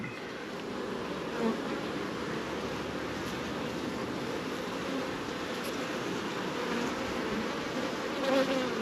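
Honey bees buzz around a backyard hive during a weekly inspection, a dense continuous drone of many insects close by with no voices.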